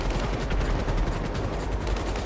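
Rapid cannon fire from a hovering aircraft in GTA Online, a dense, evenly pulsing stream of heavy shots at constant loudness with no pauses.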